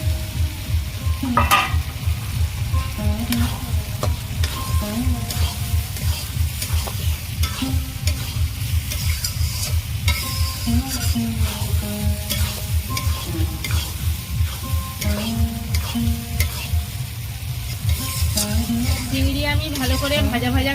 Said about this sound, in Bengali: গ্রেভির মধ্যে আমি চিংড়িগুলো দিয়ে ভেজে নেবো